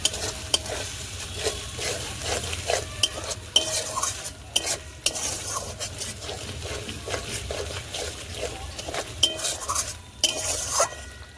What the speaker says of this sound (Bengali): মশলা দিয়ে আর পাতাটা দিয়ে খুব ভালো করে কষানো হয়ে গেছে